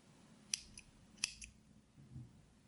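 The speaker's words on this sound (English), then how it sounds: "Chain 1, and I can cut off my yarn" Scissors snipping yarn after a crochet blanket border, two quick close metallic cuts in a quiet room, each followed by a faint blade click.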